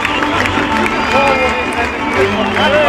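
A football crowd cheering an 8:0 goal for VfB, a loud sustained roar of many voices with whistles and shouts in the stadium.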